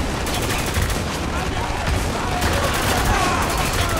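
Sustained automatic gunfire in the war shooter game Spec Ops: The Line, a dense, loud, continuous rattle of rapid shots with no pause over a few seconds.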